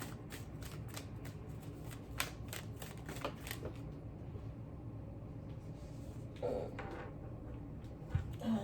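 Tarot cards shuffled by hand, a quick run of crisp riffling snaps and flicks followed by quieter card handling and a couple of cards flipping over, close and fairly soft.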